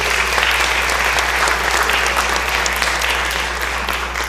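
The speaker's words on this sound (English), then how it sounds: "Please give them a round of applause." An audience on the floor of the Mississippi House of Representatives applauds in a steady, even stretch of clapping that runs for several seconds without talk.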